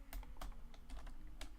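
Keystrokes on a computer keyboard during 3D modeling work, several separate taps at an uneven pace, close and fairly quiet over a low steady hum.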